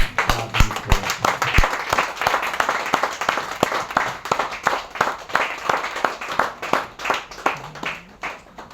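A church congregation claps together for several seconds, a dense, rhythmic patter of many hands close by, fairly loud and steady, with a few voices faintly underneath.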